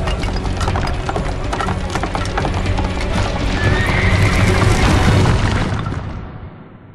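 Galloping horse hooves in Prince of Persia: The Sands of Time, a loud, rapid clip-clop rhythm with whinnies and snorts over a rumbling game soundscape, fading out near the end.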